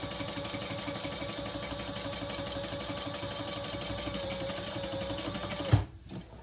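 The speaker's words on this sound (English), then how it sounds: "I am just going to sew all my corners" A sewing machine stitching the corners of a fabric basket, a fast steady mechanical chatter with a constant motor whine, close and even, ending abruptly with a clunk and short quiet rattle.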